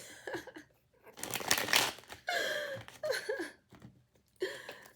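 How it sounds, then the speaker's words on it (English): Tarot cards being shuffled by hand produce brisk papery riffles and flutters in several bursts with short pauses, close and fairly loud. "It's shuffling."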